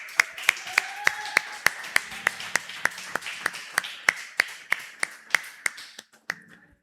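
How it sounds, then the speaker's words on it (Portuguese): A church congregation claps in a steady, evenly spaced rhythm, sharp distinct hits roughly three per second, fairly faint, with a voice speaking underneath before the clapping stops. "Dá uma salva de palmas ao Senhor."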